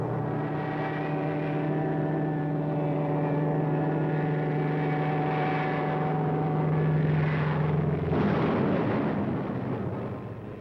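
A loud, steady propeller-aircraft drone from World War II P-38 fighter planes carrying 1,000-pound bombs, with a deep harmonic hum, holding for several seconds before a roaring surge near the end.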